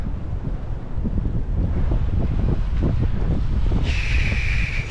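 Strong wind buffeting the microphone by the sea, a constant low rumble of gusts with a brief higher whine near the end.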